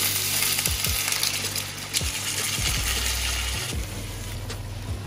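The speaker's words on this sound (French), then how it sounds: "On va pouvoir verser l'équivalent d'un verre d'eau dans la casserole." A pan sizzles and crackles loudly and steadily as a glass of water hits hot metal while cooking gyoza, with a few light clinks of a utensil against the pot.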